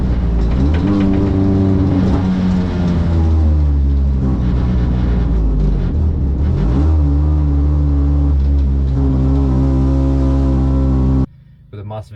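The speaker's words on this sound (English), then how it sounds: "With a massive exhaust blow" A Mini Challenge Clubsport race car at Castle Combe circuit with a blowing exhaust, its engine droning loud and close with rough, shifting revs throughout before cutting off near the end.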